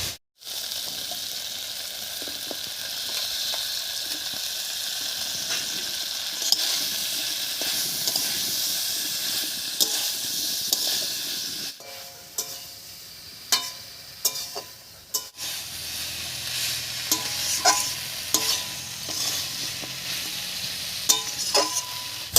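Pumpkin stems stir-fry with potatoes and spices in a pan, a continuous hissing sizzle at first, then quieter frying broken by repeated scraping and knocking of a spatula against the pan.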